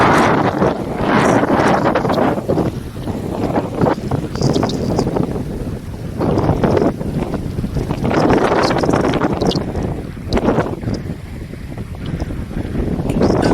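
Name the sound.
Kali Gandaki river flowing and strong cold wind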